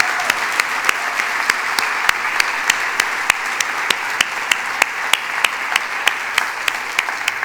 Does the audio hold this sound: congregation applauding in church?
yes